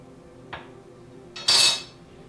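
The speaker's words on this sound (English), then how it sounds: "we're going to begin spooning it into the tincture press" Two metal spoon clinks against a bowl or press as macerated herbal tincture is scooped into a tincture press, a soft tap followed by a brighter, louder scrape-clink, close and isolated.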